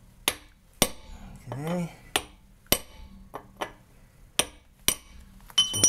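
Uneven metallic hammer blows on a chisel driven against a wheel lock lug nut, sharp and close with ringing clinks, plus a brief squeak and a short spoken word.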